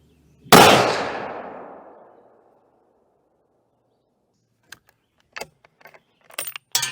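A single loud rifle shot from a .270 WSM firing Winchester Deer Season ammunition on a range, with a sharp crack and long decaying rumble, followed after a pause by scattered faint clicks and handling noises.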